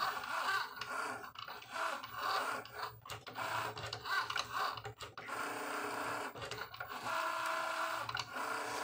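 A vinyl cutting machine cuts a design for a t-shirt, producing quiet, irregular mechanical whirring and ticking as the blade carriage moves back and forth, with short pauses between passes.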